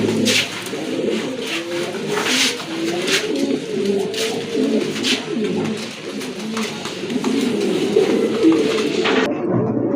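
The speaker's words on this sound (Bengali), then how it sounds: "আরেক জোড়া কবুতর, গড়া কবুতর, সাবচকের গড়া কবুতর" Pigeons of a pair kept for sale coo repeatedly in a loose rhythm, close and fairly loud, over a busy background of wingbeats and rustling, with no speech.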